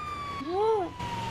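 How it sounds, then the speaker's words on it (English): Brief rising and falling wail of a police car siren in a NoPixel roleplay video game, a single swept tone lasting about half a second over a faint steady engine drone. "We have lights and sirens."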